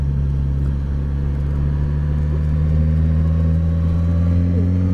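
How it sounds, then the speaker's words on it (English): A stock-exhaust 2019 Suzuki GSX-S1000 motorcycle idling and running steadily, a loud, close, deep droning engine note with a slight rise in intensity toward the end, no voices. "I love the sound of the exhaust. For a stock machine, it's fantastic."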